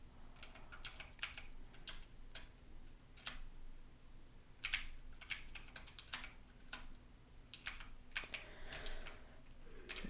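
Rapid clicking keystrokes come from a loud, noisy computer keyboard, with bursts of typing and brief pauses close to the microphone in a quiet room.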